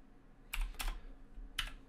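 Computer keyboard keys are struck in a few quick, close clusters of clacks as a street address is typed into a Google Maps contact form, with no talking.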